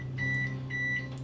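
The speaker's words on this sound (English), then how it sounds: "Oh, there's the oven ready to go." An oven beeps twice in long steady tones to signal it has preheated, over a low electrical hum from the kitchen.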